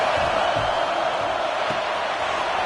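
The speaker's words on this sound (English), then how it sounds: "how nice is it to have the home crowd going absolutely bananas?" Home crowd roaring at a football game, a dense, steady wash of cheering and noise filling the whole stretch, loud and continuous with no break.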